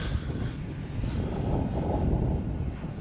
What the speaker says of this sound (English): Very windy, very cold.